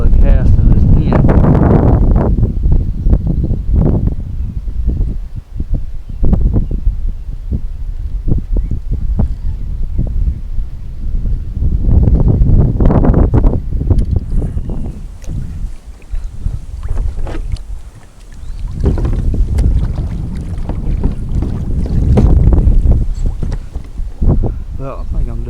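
Strong wind on a fishing trip buffets the microphone in heavy, surging gusts that rise and fall, with a person talking at times under the roar.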